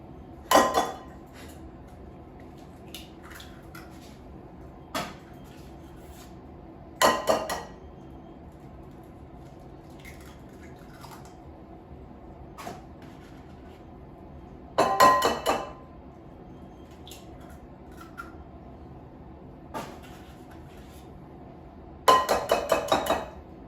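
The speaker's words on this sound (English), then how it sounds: "So I'm going to crack 4 eggs in a bowl." Four eggs cracked one by one against the rim of a bowl, each a short cluster of sharp clicks and shell taps spaced several seconds apart in a quiet kitchen.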